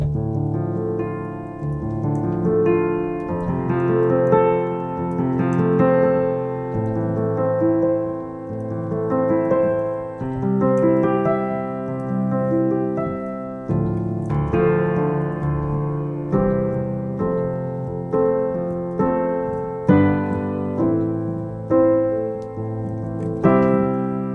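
Rich, sustained piano chords ring out one after another, full and resonant, with a steady unhurried rhythm and no voices.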